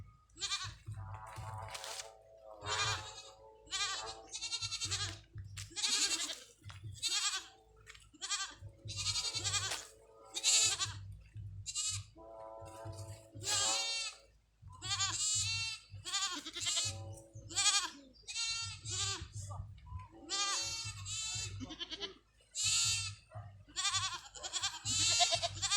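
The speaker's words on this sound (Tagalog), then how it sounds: "Yung mga kambing dyan." Goats bleat over and over in short, loud, wavering calls, several animals overlapping in a busy, steady rhythm with low rumbling between cries.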